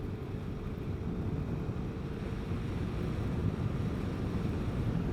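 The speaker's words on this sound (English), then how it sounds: "Right back into the wind here." Steady, loud wind buffeting a helmet microphone while riding a Vespa GTS 300 Super Sport scooter on a country highway, a continuous low roar with no talking.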